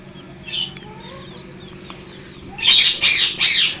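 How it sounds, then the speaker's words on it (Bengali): Desi chicken chicks in a brooder give faint scattered chirps, then three loud, close, high-pitched cheeps in quick succession near the end. "এখানে বোর্ডিং করা কয়েক দেশি মুরগি বাচ্চা রয়েছে"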